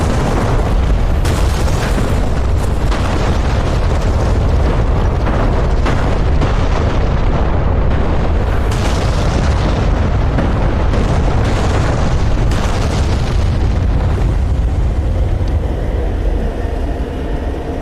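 Salvo of Grad multiple rocket launcher artillery impacts in the combat game DCS World, a loud, continuous rolling barrage of overlapping booms and rumbling blasts with no gaps.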